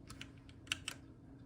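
Quick keystrokes on a Womier K87 mechanical keyboard, a handful of crisp clicks in an uneven rhythm, close and faint over a steady low background hum.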